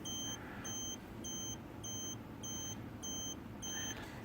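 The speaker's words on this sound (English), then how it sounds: "as it starts beeping out the prior altitude" An EggTimer Quark rocket altimeter beeps out a stored altitude in a steady series of about seven short, evenly spaced high beeps over a faint background hum.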